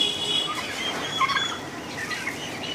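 Turkeys on a farm gobble and chatter while being fed by hand, a dense, continuous layer of bird calls at moderate distance with no voices.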